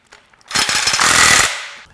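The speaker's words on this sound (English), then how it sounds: "we'll use this sleeve in each of the holes to keep the drill bit square while we cut the bigger holes 1 inch deep" A drill bores a hole in a Ford Coyote 5.0 engine mount bracket boss, giving one loud, rough, chattering burst of about a second, preceded by a couple of faint clicks.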